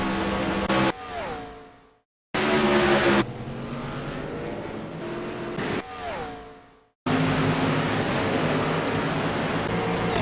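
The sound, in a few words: race cars wrecking at Daytona in a racing video game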